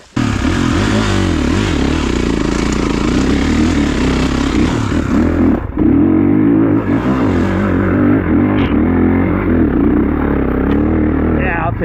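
A Kawasaki KX450 dirt bike revs hard climbing a hill in the rain, its engine loud, close and sustained with rising and falling pitch, dipping briefly midway before roaring on.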